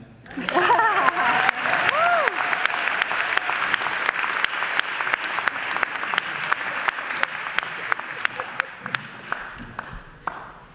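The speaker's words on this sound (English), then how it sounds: "Y'all can clap." Steady audience applause, loud and sustained, with a few sharp individual claps standing out as it slowly tapers off; a voice briefly rises at the start.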